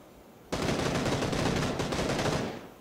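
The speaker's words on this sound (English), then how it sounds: "You're getting shot from across the lake." A sustained burst of automatic gunfire in PUBG, coming from across a lake: dense, rapid shots starting abruptly and rattling on for about two seconds before tapering off, heard alone without talk.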